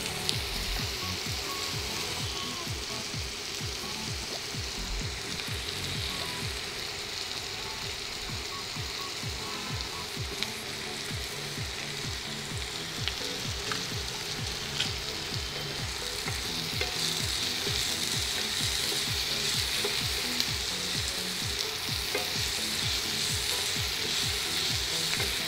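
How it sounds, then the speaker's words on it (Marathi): Onion frying in a pan for a Maharashtrian besan and capsicum dish, giving a steady loud sizzle with repeated scraping stir strokes over about 25 seconds and no talk. "आपल्याला कांदा जास्त भाजायचा नाही."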